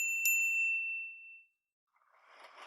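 A bicycle bell gives a single bright metallic ring that decays over about a second, followed by silence and then faint background noise.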